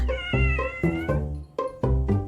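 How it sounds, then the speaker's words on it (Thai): A black cat yowls loudly and close by in a run of drawn-out, wavering cries separated by brief pauses, as a playful tussle between cats turns into a fight. "เริ่มมีเสียงแล้ว มีเสียงจากน้องน้ำเงินแมวดำแล้วค่ะ"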